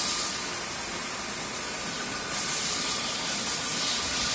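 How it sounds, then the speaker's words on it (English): Vacuum pump on a metal zipper cleaning and color fixing machine running, a loud steady broadband hiss that swells slightly near the end, close, no talking. "Okay, this is the vacuum pump."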